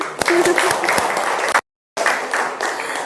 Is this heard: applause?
yes